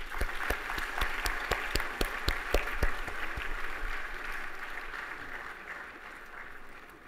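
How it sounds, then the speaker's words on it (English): Applause for the President at an award ceremony for National Energy Conservation Day, with distinct loud claps up front over softer crowd clapping that tapers away toward the end. "Let's give him a warm round of applause"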